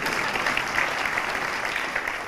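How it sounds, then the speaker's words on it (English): Steady audience applause during an inspirational talk, a continuous wash of clapping at moderate level with no pauses. "You should clap."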